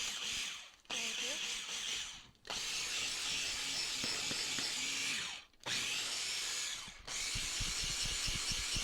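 A blender pulses pie crust dough for mini pies in short whirring bursts, four loud grinding runs separated by brief pauses, close to the microphone with no voices.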